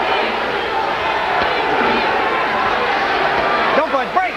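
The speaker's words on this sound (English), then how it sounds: "Crowd chanting, "Sweet pea, sweet pea."" A boxing arena crowd chants rhythmically in a steady, loud mass of voices at a fight between Pernell Whitaker and Wilfredo Rivera, with a few louder shouts rising near the end.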